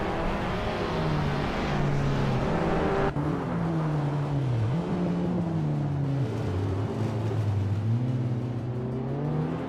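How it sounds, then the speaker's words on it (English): In a racing video game, a 1990 Lotus Carlton engine drones steadily and climbs through gear changes, with other cars whirring nearby in a continuous loud hum. "Lyricel is driving a Lotus Carlton from 1990, which is known for its luxury and speed"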